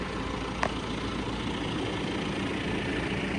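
A tractor fitted with bale spikes runs at a steady, low rumble as it drives around a farmyard, close and continuous, with a brief knock partway through and no talk.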